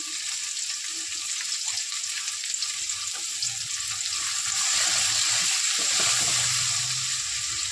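Tomatoes with a little salt sauté in a pan for a dried anchovy fry, producing a constant close hiss of frying that swells slightly toward the end, with no speech.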